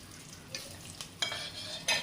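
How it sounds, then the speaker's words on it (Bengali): Chopped onion and garlic frying in oil for dal, a soft sizzle with a spatula stirring and scraping the pan in short strokes. "পেঁয়াজ রসুন কুচি দিয়ে দিলাম।"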